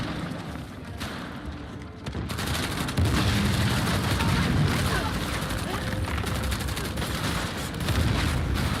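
Heavy gunfire in Uncharted: The Lost Legacy, with shotgun blasts mixed into a continuous dense fusillade of shots and thuds that runs throughout, loud and close.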